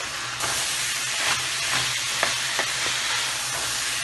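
Mixed vegetables with dry spices fry steadily in a pan, giving a continuous close sizzle and hiss with a few soft stirring clicks and no voices.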